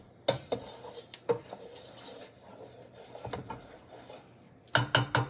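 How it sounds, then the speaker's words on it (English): A spoon scrapes and stirs keto gravy in a pan, with sharp clustered scraping strokes near the start and a quicker burst of rasping scrapes at the end, close and fairly loud. "notice I'm continuing to stir. I do not want my gravy to scorch"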